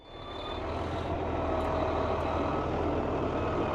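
A military truck engine fires up and settles into a steady, loud diesel rumble that holds close and continuous with no talk over it.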